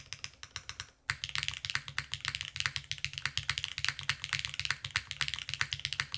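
Fast, steady typing on a Wraith 60 keyboard fitted with Keygeek Explosion switches, crisp close clacks in a dense rhythm after a brief pause near the start, with a slight resonant undertone.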